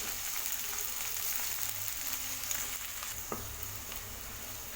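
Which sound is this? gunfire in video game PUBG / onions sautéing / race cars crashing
onions sautéing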